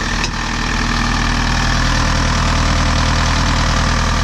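A Kubota diesel engine of about 63 to 67 horsepower idles in a skid steer, a loud, steady, close-up clattering drone with an even knocking rhythm and no talk.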